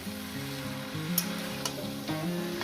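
Greens (shak) cook in a pan with a steady, soft sizzle, close and fairly quiet, with a few light clicks of stirring and no voices.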